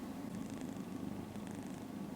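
A cat named Newton purrs softly and very close, curled in a nest between two computer monitors beside a keyboard, a low steady rumble pulsing with each breath.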